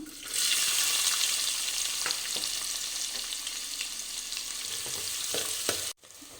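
Onions frying in hot oil with cumin and spices for Hyderabadi dalcha, a loud continuous sizzle close by with faint stirring scrapes, cutting off abruptly near the end.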